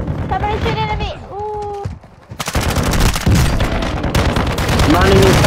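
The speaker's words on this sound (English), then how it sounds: "Oh, somebody's shooting at me." Bursts of automatic gunfire in the battle royale shooter Call of Duty: Warzone, Plunder mode, crackling loud and dense after a voice speaks over the opening, then continuing as sustained rapid fire with heavy booming undertones.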